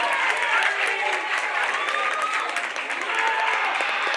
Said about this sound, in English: May we hear your applause?